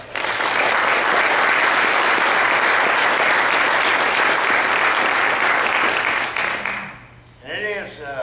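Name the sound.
audience applause at memorial plaque ceremony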